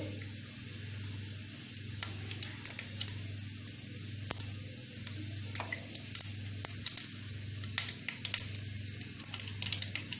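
Mustard seeds crackle and spit in hot oil in a pan, a faint, continuous sizzle with scattered small pops over a low background hum, and no talk.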